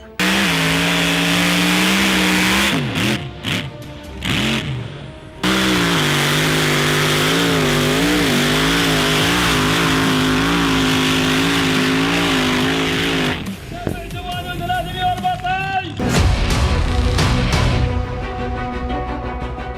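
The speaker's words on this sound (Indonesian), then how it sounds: "balapan justru digelar di gurun pasir, di mana setiap pesertanya harus mendaki bukit berpasir" Powerful cars racing up sand hills in a desert, loud engines revving hard with rising and falling pitch, the strain cutting out briefly before surging again near and continuous.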